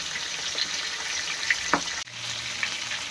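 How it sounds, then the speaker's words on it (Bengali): Hilsa fish heads fry in a pan over a gas flame, giving a steady close sizzle with a brief utensil clatter partway through and a short break before the sizzling resumes. "মাছের মাথাগুলোও দিয়ে দেব এইগুলো মাছের থেকে একটু পরিমাণে বেশি ভাজবো"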